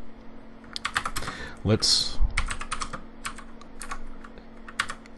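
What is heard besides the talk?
typing a program on a computer keyboard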